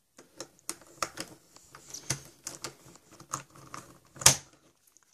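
Plastic speed cube pieces with ball bearings, heavily lubricated, being pressed back into place, giving a run of sharp, quiet clicks and taps at an uneven pace, alone with no talk.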